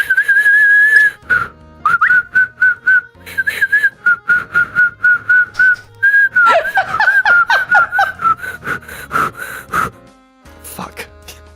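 A person practices inhale whistling, producing a steady wavering whistle that breaks into short choppy bursts with breathy gasps and snickering laughter, close and clear.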